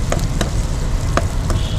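Fenugreek, cumin, mustard seeds, green chillies and curry leaves frying in hot oil for a tempering, a steady loud close sizzle with several sharp popping crackles scattered through.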